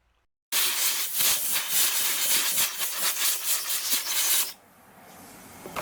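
A brush scrubs hard and fast at stubborn varnish on a motorcycle carburetor butterfly, giving close, loud rasping strokes for about four seconds before stopping abruptly into a faint hiss.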